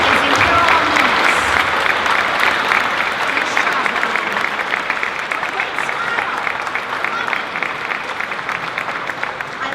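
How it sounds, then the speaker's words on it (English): Steady, loud applause from a large crowd during a break in a game honoring a hero, sustained evenly throughout with dense clapping and no break. "but Brian, you have to stand up so I can clap for you."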